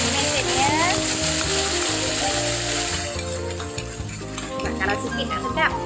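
Blended chili paste for sambal petai fries in hot oil in a wok, with a loud continuous sizzle and scraping stirring strokes throughout and a voice speaking partway through.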